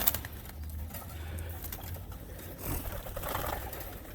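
Young pigeons at a pigeon loft coo softly and steadily alongside bird chatter and the flutter of movement, with a low continuous background hum and no talking.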